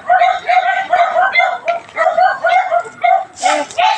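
Several dogs barking in a rapid, repeated series of close, loud barks and yips, with a voice speaking over them.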